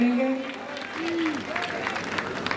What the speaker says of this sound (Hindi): जोरदार तालियों से प्रणाम पूर्वक